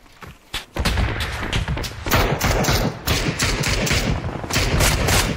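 An M4 rifle fires in a shooter game in rapid, loud, close automatic bursts after a brief quiet start. The bursts pause briefly now and then before the firing resumes.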